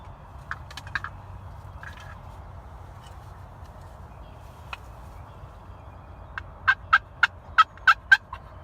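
A wild turkey gobbler calls in the open during a spring turkey bowhunt: a few faint, distant calls come first, then a run of six loud, sharp gobbles in quick succession near the end.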